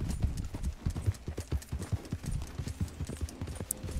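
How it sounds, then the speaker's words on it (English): Horse hooves clip-clopping at a steady trot in the video game Velos of the Out Cove, the new, unruly mount sounding as a rapid, even rhythm of close, distinct thuds running throughout, with no speech over it. "This is a new horse, so it's gonna be a bit unruly for me"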